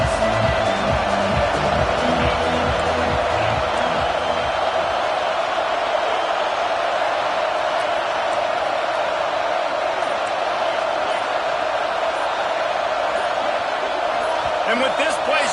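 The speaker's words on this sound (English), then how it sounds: "with this place rocking, the crowd forces a false start." A loud stadium crowd roars steadily at a college football game against Oregon, a dense sustained wash of noise throughout with commentary talk over it.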